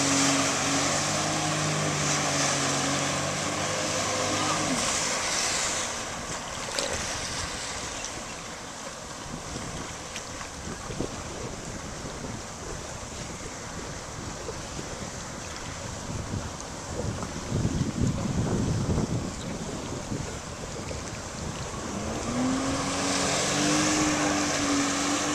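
A Sea-Doo RXP-X personal watercraft roars at full throttle through a wheelie, a loud sustained engine drone mixed with heavy wind buffeting and water spray that rises and falls over the run.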